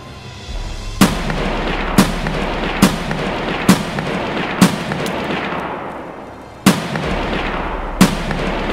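Sharp gunshots in the video game Escape From Tarkov crack out seven times at irregular intervals, each a loud, close report with a short echoing tail.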